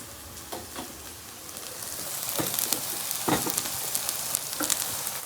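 Spices and fish masala fry in a pan for a Nellore fish curry, giving a steady crackling sizzle with scattered sharp pops and light stirring scrapes, close up and moderately quiet, with no voices.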